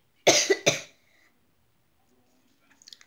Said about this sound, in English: Mommy has a little cough.